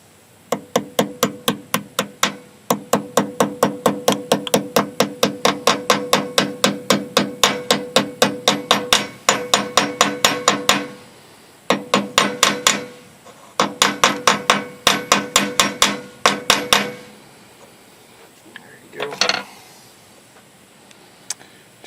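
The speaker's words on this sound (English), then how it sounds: "So take our little baby hammer here." A small hammer taps rapidly and steadily on a workpiece in a classic car workshop, with long runs of sharp close strikes broken by short pauses, then a few scattered final knocks.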